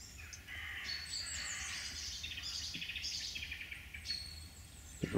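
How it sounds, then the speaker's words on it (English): Assorted wild birds chirp and sing continuously in the background of a garden feeder area, faint and distant, a steady mix of overlapping calls with no talking. "There are all sorts of birds in the background."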